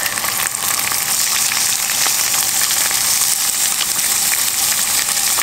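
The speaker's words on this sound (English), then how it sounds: "And that sizzling sound is what we like to hear." Tofu frying in a hot pan, a loud, dense, continuous sizzle with crackling spatters, close and steady throughout, with no talk.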